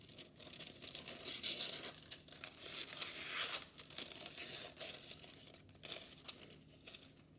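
Paper being cut and handled for a collage, a steady close crinkling and rustling with brief tearing-like bursts, continuous throughout and with no talking.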